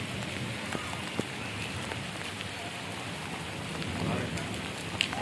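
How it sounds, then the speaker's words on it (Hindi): Heavy rain pours steadily in a storm with strong wind, a dense continuous hiss of drops hitting the ground and surfaces, with a few louder splashes and no talking. "ते देखो सामने देखो सारी बारिश है, बहुत बारिश आँधी पई है।"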